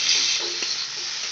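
Ground spice paste sizzles in hot oil with fried onions, a close, steady hiss of frying with a faint stir partway through, no voices.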